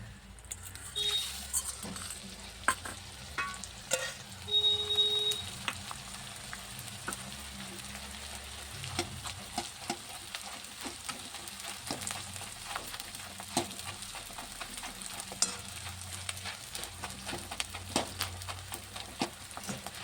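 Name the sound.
frying edible gum (dinkh) for ragi ladoos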